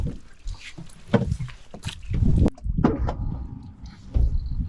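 A fishing boat's outboard engine runs in reverse near a net in a current at sea, a low churning rumble mixed with water washing against the hull, loud and close throughout.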